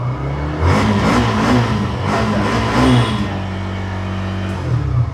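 A second-hand motorcycle engine idles loudly up close and is revved repeatedly, rising and falling in several throttle blips over a steady running drone, with no talking.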